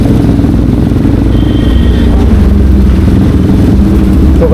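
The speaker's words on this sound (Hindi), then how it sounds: "ये चल रही है अपनी बाइक" A Kawasaki Z900 motorcycle engine runs loud and steady, with a dense, continuous roar and mechanical clatter filling the whole stretch at close range and no clear revving peaks.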